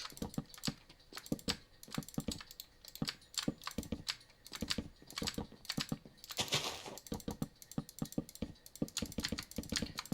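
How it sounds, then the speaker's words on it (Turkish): Rapid clacking keystrokes on a mechanical keyboard during a Minecraft session, close and crisp, in a fast uneven rhythm with short bursts and brief pauses. "Mekanik klavyeyle oynuyorum dostlar."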